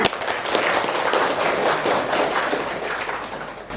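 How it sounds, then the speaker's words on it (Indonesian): A classroom of students claps together, a dense, steady burst of applause that fills the room for several seconds without pause. "Tepuk tangan."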